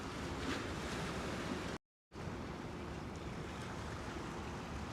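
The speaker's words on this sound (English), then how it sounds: "Isn't that perfect with the sound of the water?" Water of the East River lapping along the Williamsburg, Brooklyn waterfront, a steady broadband wash with wind noise, continuous apart from a short silent gap.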